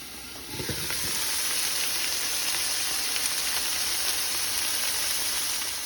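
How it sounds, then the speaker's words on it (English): Steady, loud crackling sizzle of cheeseburger patties frying in a pan, continuous and close, with no talking. "while my burgers are frying up"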